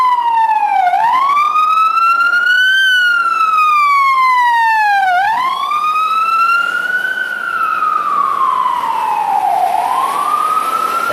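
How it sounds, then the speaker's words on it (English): A loud ambulance siren wails in long rising and falling sweeps as it passes close by, dominating the scene with no voices. "because it's a blaring ambulance."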